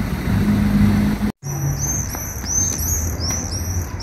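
Swifts flying and calling outside a church, with high thin screeching calls sweeping past overhead after a brief break, over a low background rumble that includes a passing car.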